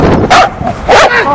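Dogs bark close by and loud, two sharp bursts with a shorter yip between them.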